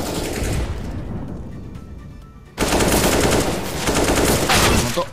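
Counter-Strike: Global Offensive gunfire, with sustained automatic bursts that fade briefly and then return in a loud, dense rattle of rapid shots near the listener.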